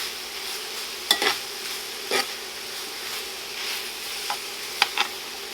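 Peppers and onions sizzle steadily on a cast iron pan, a continuous hiss broken by a few soft clicks of stirring, close and alone without talk.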